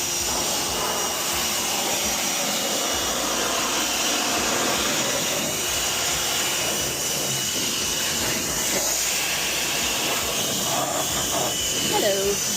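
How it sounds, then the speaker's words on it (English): Ryobi automotive pressure washer spraying car tires and wheels outdoors: a continuous loud hissing spray roar up close, with the pump's drone steady underneath and someone talking over it. "So I'm using the Ryobi Automotive Pressure Washer."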